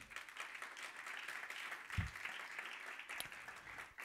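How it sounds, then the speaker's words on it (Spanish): A church congregation claps in praise during a Spanish-language service, a continuous, moderately distant patter of many hands with one thump near the middle and no voices. "Dale palmas al Señor."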